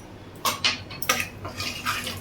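Salt, turmeric and chili powder stirred into oil in a pan for an egg dish, a spoon clinking and scraping against the metal in a few short, distinct strokes, close and fairly quiet, with no talking.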